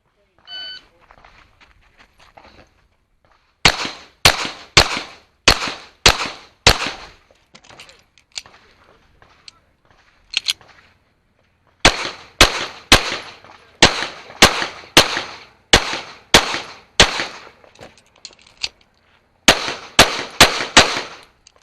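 Pistol fire on an IDPA championship stage: several rapid strings of sharp, loud shots in quick bursts of two to six, separated by short pauses, with faint beeping or voice at the start.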